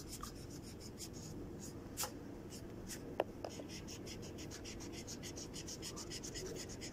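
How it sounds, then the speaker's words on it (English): Eraser rubbing over paper while drawing hair in pencil, soft close scratchy strokes in irregular bursts with a couple of light taps, quiet, no talking. "Now let me erase the middle part."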